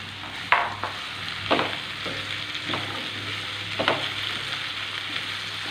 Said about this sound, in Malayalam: ഇനി നമ്മളിതിലേക്ക് ചേർത്ത് കൊടുക്കുന്നത് ബീൻസാണ്.